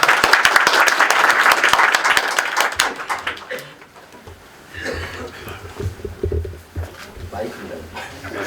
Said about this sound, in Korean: 우선 큰 박수 부탁드릴게요